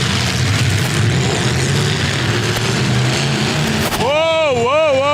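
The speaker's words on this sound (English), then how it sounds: "motor sounds great, but he's not finding a gear anywhere." A dirt track race car's engine revs hard while the driver can't find a gear after losing the transmission, a loud continuous roar that rises and falls in wavering pitch sweeps near the end.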